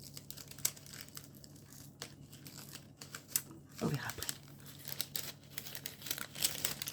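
Gift wrapping paper crinkles and rustles in short bursts, with a few careful tearing sounds, while a person speaks briefly and quietly nearby.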